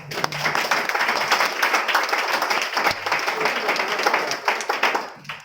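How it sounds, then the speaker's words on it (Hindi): Audience members at a business meeting break into clapping, a lively burst of many hands that swells and holds for several seconds before trailing off, with a voice briefly audible. "इसके लिए मेरे लिए ताली होना चाहिए ना"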